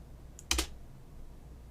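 A single soft keyboard key press, a quick double click of the space bar, in an otherwise quiet room.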